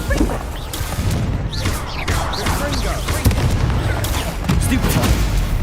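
Confringo, an explosive spell, blasts in Hogwarts Legacy amid busy combat effects: repeated booming bursts and crackling impacts rumble steadily through the clip, with no voice on top.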